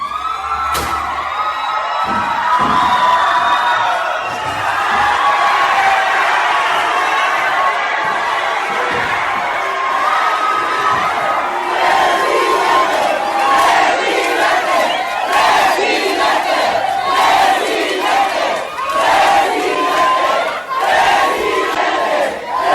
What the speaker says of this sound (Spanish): Hace 3 años López Obrador sale a recibir el aplauso de cientos de personas que estaban felices por su victoria.